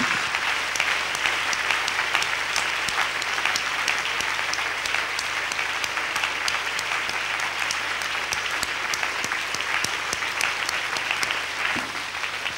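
Church congregation applauding and acclaiming Jesus Christ, steady loud clapping from a large crowd filling the room for the whole stretch.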